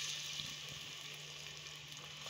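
Chopped onions fry in oil inside a pressure cooker, making a faint, even hiss that continues without a break.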